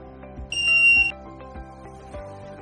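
A high-pitched electronic buzzer wired to an Arduino sounds one loud tone for about half a second over a soft, repeating musical background.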